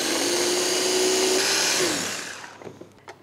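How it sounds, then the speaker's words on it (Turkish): An electric food chopper whirring through tomato sauce ingredients with black pepper and salt, a loud continuous motor drone that winds down after about two seconds, followed by a few light clicks and knocks. "Şimdi bunu doğrayıcımdan geçiriyorum."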